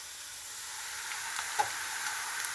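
Oil sizzles with a steady, soft hiss as popcorn okra fries in a pan, with a couple of faint pops and no talking.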